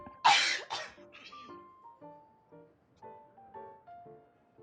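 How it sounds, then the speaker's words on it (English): A Genshin Impact character coughs and clears the throat, one sharp cough burst followed by a series of softer rhythmic coughs, close and alone over quiet game music. "Coughing for days"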